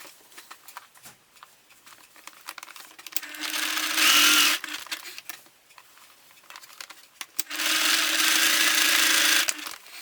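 A sewing machine stitches down a folded-over, fraying fabric repair in two steady runs of several seconds each, separated by quiet handling of the fabric, with a brief whir between them.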